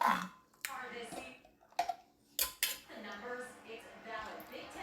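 Chili paste (nam prik pla ra) spooned into a small jar, with clinks and scrapes of utensils on glass and dishes scattered through, under someone speaking.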